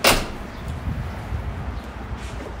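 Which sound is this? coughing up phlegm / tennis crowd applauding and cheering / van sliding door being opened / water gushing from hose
van sliding door being opened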